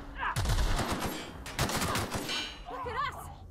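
Assault rifle fire in The Outer Worlds crackles in dense, loud bursts that thin out, then a voice speaks briefly near the end.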